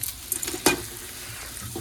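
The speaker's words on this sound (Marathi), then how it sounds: "तर गाईज आपली फोडणी तयार झाली एक नंबर पैकी" Phodni tempering for Maggi noodles sizzling in a pan, a soft continuous hiss broken by a few stirring taps and one sharper clatter near the start.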